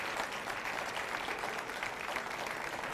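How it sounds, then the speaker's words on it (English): An audience at an evening spring benefit gala applauds the recipients with dense, continuous clapping that holds steady for the whole stretch, no voices standing out. "give a round of applause again to all of our wonderful recipients tonight"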